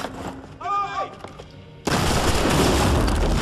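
Gunfire in Assassin's Creed III breaks out abruptly as a loud, dense, sustained barrage after a brief stretch of someone talking, and it continues unbroken to the end.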